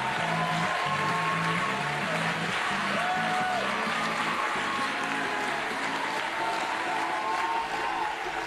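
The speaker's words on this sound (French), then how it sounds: "On les applaudit." An audience applauds the Loft Story contestants with steady, loud, continuous clapping, while musical tones and some voices sit underneath.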